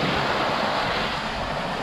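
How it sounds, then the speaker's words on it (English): A forest stream in Lower Alabama on a hot day, its water flowing with a steady, even rush of broadband noise that stays unbroken and fairly close, with no one talking. "listen to the water flowing"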